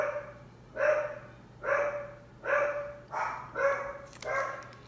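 Dogs bark indoors in a run of six sharp, evenly spaced barks, fairly close and loud, with no talk over them.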